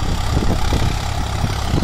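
A Swaraj 744 XT tractor engine runs loud and steady at around 1200–1300 RPM while pulling a nine-tine cultivator, a constant low, rough drone up close.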